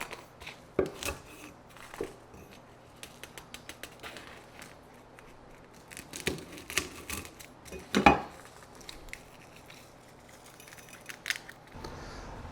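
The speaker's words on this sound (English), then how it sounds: "What I'm gonna do is go ahead and cut the stems off and basically just take out all the seeds on them." Stems being cut from roasted chilies and seeds removed while making pork belly chili with salsa roja. Scattered small knife taps and clicks on a board in an irregular rhythm, close but quiet, with a louder knock near the end.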